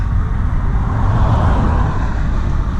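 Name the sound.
car traffic noise on road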